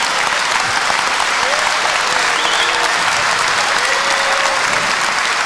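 A large live-show audience applauds loudly and steadily, a dense continuous wash of clapping with faint crowd murmur, close and unbroken for the whole stretch.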